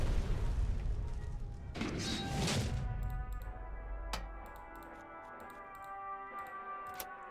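Carpet bombing card played in the card video game KARDS: a deep booming blast with crashing debris, followed by a rumbling tail and scattered sharp ticking clicks, loud and close.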